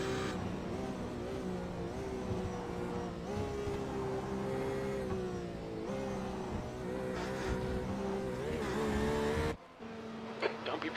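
An LMP1 prototype race car in a Le Mans racing video game drones steadily at high revs, its engine pitch rising and falling with shifts and corners. A voice talks over the engine, which cuts abruptly near the end.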